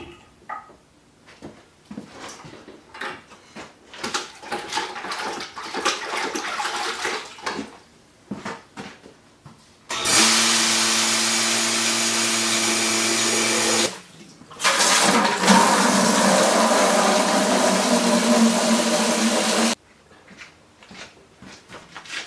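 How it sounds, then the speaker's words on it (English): Hot water running from a tap while milking equipment is cleaned up, two loud steady gushes separated by a short pause, mixed with clattering handling sounds before and after. "Oh, that's some hot water."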